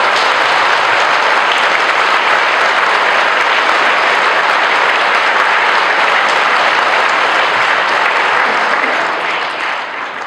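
Thunderous audience applause at a Hindi poetry recital, loud and sustained with dense clapping throughout, tapering slightly at the end; no speech over it.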